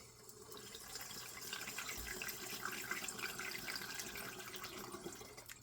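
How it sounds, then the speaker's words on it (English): Alcohol is poured steadily into a container of wormwood, a continuous soft liquid trickle and splash lasting several seconds, close and moderately quiet, with no talking. "start pouring in the alcohol."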